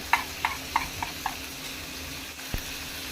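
A spoon scraping and stirring dry chicken masala with grated coconut, salt and garam masala in a pan: a few soft, evenly spaced scrapes over a low background hiss, then a single dull knock.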